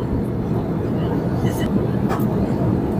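Steady broadband cabin drone of an airliner on a night flight to Islamabad via Doha, a constant low rumble filling the whole clip with a couple of faint brief clicks.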